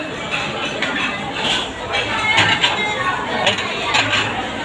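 Plates and cutlery clink at a birthday party buffet, with scattered bright chinks of dishes over a busy murmur of guests chatting and children nearby.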